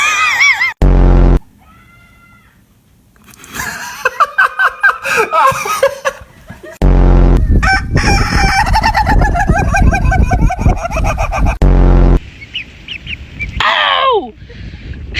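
Chickens squawk and cluck loudly in a comic farmyard scene, bursts of harsh screeching alternating with shorter clucks and a crow-like call, close and energetic, with a voice speaking over parts of it.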